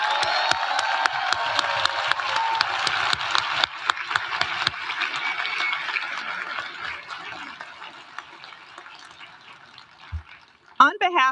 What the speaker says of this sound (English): please join me in a round of applause for all of today's organizers and helpers